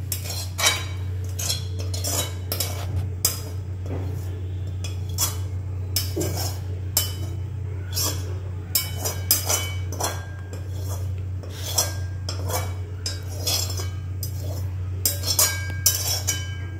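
Repeated metallic scraping and clinking as a spatula scoops cooked spring onion greens from a pan onto a plate, over a steady low hum.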